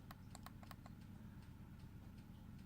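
Several quick clicks from the fire button of a VGOD Pro 150 box mod, a brief cluster of sharp ticks early on, then softer scattered taps over a steady low hum.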